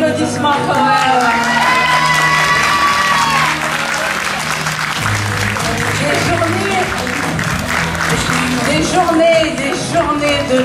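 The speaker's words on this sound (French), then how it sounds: "mérite des applaudissements quand même" A large crowd at a costume fashion show applauds steadily with scattered cheers and whoops, loud and sustained throughout.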